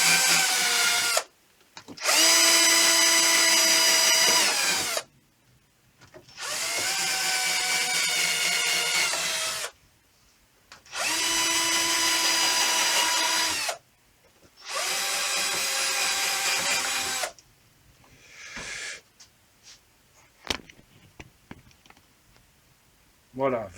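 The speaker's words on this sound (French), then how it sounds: "Je prends une visseuse avec une mèche normale et on perce." A cordless drill with a normal bit bores into pallet wood in four separate bursts of a few seconds each. Each burst gives a close, loud whine, with short pauses between them and some handling clatter at the end.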